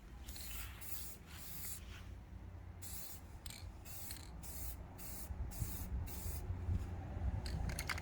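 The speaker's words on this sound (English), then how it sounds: "you come back and you spray it again" Bursts of hissing spray paint come in short repeated passes while refinishing a table, some brief and some longer, close by, with faint rattling and handling noise between them.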